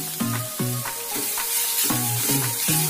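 Ginger and beetroot stir-fry with urad dal and red chili for a beetroot chutney, the pan sizzling steadily under a rhythmic series of scraping stirs, about eight strokes, loud and close.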